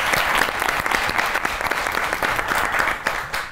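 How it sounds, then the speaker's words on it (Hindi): A studio audience on a comedy talk show applauds a guest, Mubasher Lucman, with dense, steady crowd clapping that stays loud and close for the whole few seconds. "चलो जी ताली होनी चाहिए मुबशिर लुकमान के लिए।"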